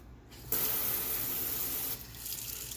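Tap water runs steadily into a sink while a bonsai tree is watered indoors, a broad continuous hiss that swells louder after a brief quiet start and dips slightly near the end.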